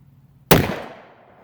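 A single loud close blast from a Rossi Brawler shotgun loaded with four 40-caliber pellets, a sharp crack with a short decaying tail, alone.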